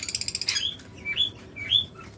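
Pet lovebirds chirp up close: a rapid burst of short ticking notes followed by a few sharp, rising tweets, loud and clear with no talking.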